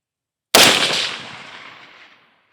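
A single sharp, loud report from a Daniel Defense DD5V3 16-inch .308 rifle fitted with a muzzle brake, cracking out of silence and trailing off in a long echoing decay over nearly two seconds.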